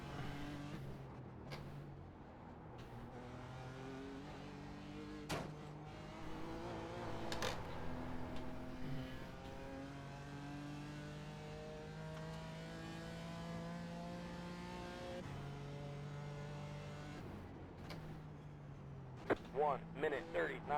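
Engine note of a BMW M4 GT4 race car at Belle Isle, heard from on board, with stepped pitch changes as it revs, brakes and downshifts into corners, plus occasional sharp clicks and pops.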